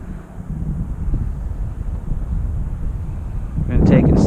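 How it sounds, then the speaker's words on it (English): Strong gusts buffet the microphone at an RC airfield, a rough low rumbling roar that builds and grows louder at the end, with someone talking over it. "almost too much wind."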